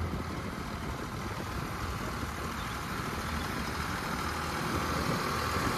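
A Swraj 744 FE tractor engine runs on a road, a steady low diesel drone with a rough chugging texture, fairly loud and continuous with no talk.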